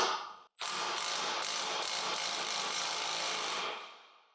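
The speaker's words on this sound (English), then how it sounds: "Use a 3/4 inch socket and a 3/4 inch wrench." A socket wrench ratchets off the roll bar hardware of a Ventrac 4520 tractor during canopy installation, giving a loud, steady run of rapid clicking that lasts about three seconds after a brief pause and then fades out.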